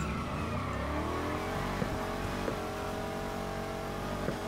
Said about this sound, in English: He was using nitrous off the launch